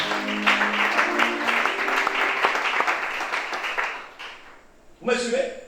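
A congregation at a Gabonese church service claps and applauds for about four seconds, the clapping fading out before a voice speaks over a brief musical swell at the end.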